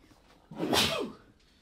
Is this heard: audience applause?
no